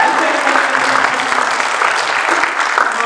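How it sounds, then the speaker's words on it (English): An audience at an in-person alumni keynote claps steadily for about three seconds, a dense, even wash of hand claps at constant loudness with no voices over it. "So let's clap for that too."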